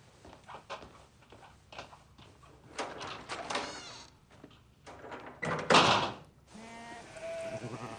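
Goats bleat several times at irregular moments, with one loud, close cry near the end, amid scraping and knocking noises.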